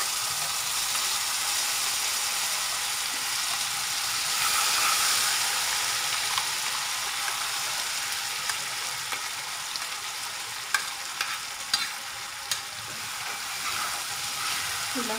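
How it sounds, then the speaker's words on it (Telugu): Chutney hits a hot pan of fried curry leaves and sizzles loudly and steadily, a dense hiss with scattered sharp crackles and pops throughout. "వేగిపోయాయి, ఇప్పుడు చట్నీ మొత్తం వేసేస్తున్నాయి"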